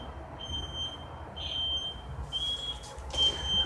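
Loud electronic beeping in repeated high tones, several short bursts sounding over a constant low rumble of background noise.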